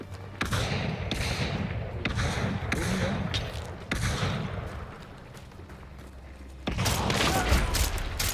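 Gunfire in Hunt Showdown, several sharp loud shots in irregular bursts with a dense volley near the end over a rumbling game background.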